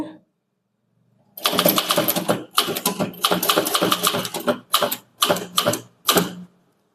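A typewriter taps out a Tamil chain letter in fast bursts of keystrokes, a long run of rapid clacking followed by several shorter separated flurries, close and clear after a silent start.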